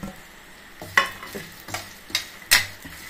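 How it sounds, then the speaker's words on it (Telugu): Sesame seeds and dal dry-roasting in a pan, stirred with a utensil that scrapes and clinks against the metal in several distinct strokes over a soft background sizzle, close and alone. "బాగా వేయించుకోవాలి."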